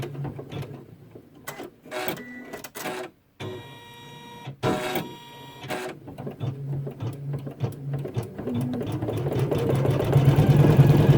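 An embroidery machine stitches down a koala applique, running in uneven bursts of mechanical whirring and tapping with short pauses, growing steadier and louder toward the end.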